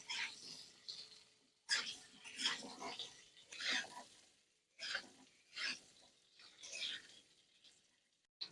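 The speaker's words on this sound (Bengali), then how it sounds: "পেঁপেগুলো দেওয়ার পর কিছু সময় আমি ভেজে নিয়েছি" Papaya pieces and summer vegetables being stir-fried in a pan: quiet, repeated scraping stirs in bursts with faint sizzling in between, close but soft.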